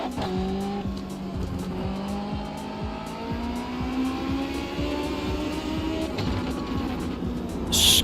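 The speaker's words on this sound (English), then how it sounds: "Screaming motorbike engine in the back of this. It's a Hayabusa motorbike engine, and it needs revving." A Hayabusa motorbike engine revs and screams inside a racing video game, holding a steady high drone with pitch sweeps and tire squeal, loud and continuous.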